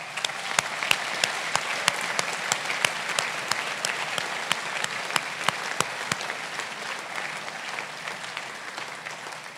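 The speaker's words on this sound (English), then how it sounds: "one final round of hearty applause for all those prize winners" Hearty applause from an audience at a school prize-giving ceremony for the prize winners, steady dense clapping with a few sharp louder claps standing out, sustained throughout without speech.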